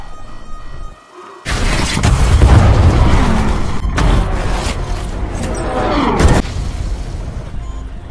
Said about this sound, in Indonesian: Saat kembali ke hub, tiba-tiba airlock-nya meledak.